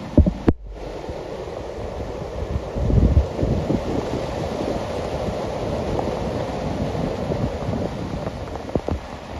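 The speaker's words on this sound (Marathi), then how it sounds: "पाण्याचा आवाज माझ्या आवाजापेक्षा खूप जास्त" Rushing water and gusting wind during heavy monsoon rain on a trek to Korigad Fort, a steady broad roar with buffeting microphone wind near the start.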